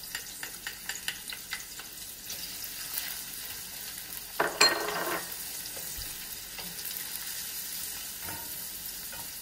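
Quiet, steady sizzling of chopped garlic frying in a pan, with light crackles and a brief clatter of stirring midway.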